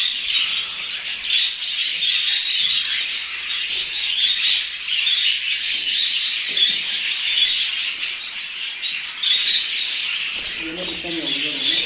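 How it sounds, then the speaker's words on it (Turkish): Budgerigars chirping in a breeding aviary, a dense continuous chatter of many birds that holds steady across the whole span, with a low voice briefly speaking near the end. "Çok kaliteli kuşlar var Fırat abide."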